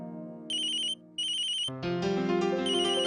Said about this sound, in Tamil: அர்ச்சனா எனக்கு ஃபோன் பண்றா